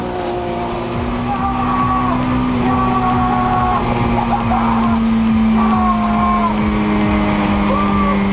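Race cars at Assen in a Supercar Challenge round, including a Clio, on the final lap, with a steady loud engine drone and passing gear-change whines overlapping continuously throughout.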